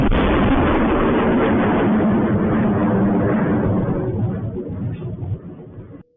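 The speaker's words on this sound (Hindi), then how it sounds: "एयरबेस पर जोरदार धमाके की आवाजें सुनाई दी।" Roaring explosion rumble at a Pakistani airbase during a reported ballistic missile strike, a loud sustained broadband blast that dominates for several seconds before slowly fading and cutting off.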